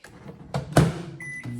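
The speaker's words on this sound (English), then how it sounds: "I'm gonna microwave it for like 15 seconds and it should be perfect" A microwave oven heats liquid plastic bait for homemade fishing lures, with clunks of the door and handling, a steady hum, then a beep as it runs alone.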